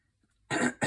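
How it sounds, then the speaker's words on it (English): A person clears their throat twice in quick succession, the first a longer harsh rasp and the second a short burst, close and fairly loud after a moment of near silence. "I'm so sorry I keep clearing my throat"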